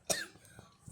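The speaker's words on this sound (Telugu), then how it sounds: "ఏంద్రా బాబు దగ్గు వస్తుంది" A single sharp cough from a man during a ranked mobile game session, close and fairly quiet, followed by a faint breathy trailing sound and near silence.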